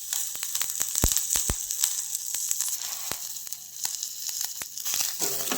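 Curry leaves crackle and sizzle in hot oil while making guava rasam, a steady bright hiss broken by sharp irregular pops, close by with no talking.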